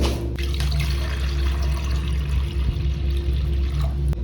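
Water pours steadily into floor drains during leak testing of roof drain plumbing, a continuous close rushing splash that holds for several seconds with no talk.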